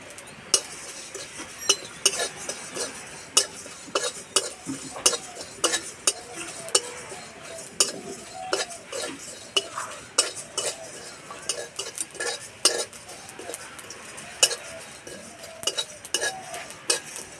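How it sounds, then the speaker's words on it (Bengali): Whole cumin, coriander, fennel, nigella seeds and four dried red chillies are dry-roasted in a dry wok, giving a steady rhythm of scraping, clicking spatula strokes against the metal over a faint rustle. "শুকনো কড়াইয়ে গোটা মশলা ভেজে নেব"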